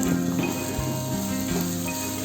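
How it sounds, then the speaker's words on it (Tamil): Onions sauté in a pan for goat intestine gravy with a soft steady sizzle, heard close and continuous over a short stretch with faint stirring. "இப்போ நம்ம போட்டிருக்க வெங்காயம் நல்ல கோல்டன் ப்ரௌன் ஆகிற வரைக்கும் வதக்கணும்னு அவசியம் இல்லை. ஓரளவுக்கு வேகிற அளவுக்கு நல்லா வதக்கிக்கோங்க."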